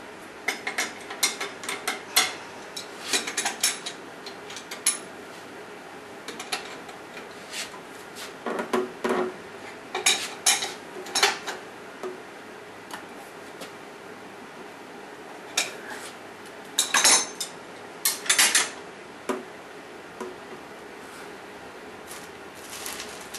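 A large crescent wrench tightening a nut, washer and lock washer on a wire wheel table build, heard as scattered metallic clicks, scrapes and ratchety clanks in irregular bursts close by, with no talking.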